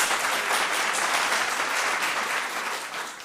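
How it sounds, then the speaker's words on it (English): Steady applause from an audience fills the space, many hands clapping together at an even level throughout. "Let's give him a round of applause."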